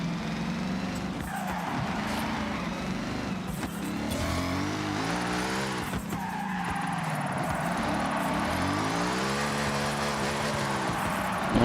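Car drifting in the Forza Horizon racing game with road drift zones, engine revving in rising and falling sweeps while tyres skid and squeal continuously, loud and close throughout.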